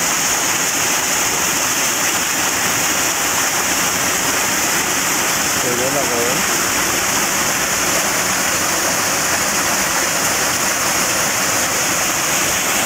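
Cool mountain forest water flows in a steady, loud, continuous rush, with a few faint spoken words barely rising above it.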